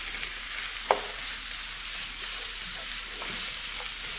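A ladle stirs mango and ginger curry in a pan, a steady close sizzle of frying throughout with one small clink of metal.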